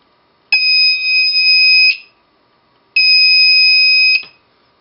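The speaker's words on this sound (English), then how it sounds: "you can turn on the buzzer" Two loud, shrill electronic buzzes from an Arduino-driven buzzer with a transistor driver, each lasting over a second, separated by a short silence.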